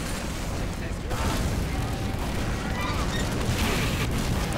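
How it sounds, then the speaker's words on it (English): Cannon fire in a video game rumbles as a dense, continuous barrage of booms and blasts, loud and busy, with a voice talking over it. "Oh, all the cannon fire."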